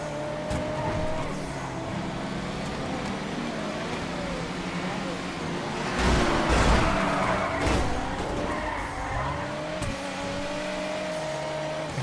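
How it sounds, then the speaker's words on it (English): Tyres screech and an engine roars as a car slides through a drift in the GTA FiveM video game. The sliding whine holds throughout, with a louder skidding burst in the middle, while a person talks over the game sound. "Slight drifting."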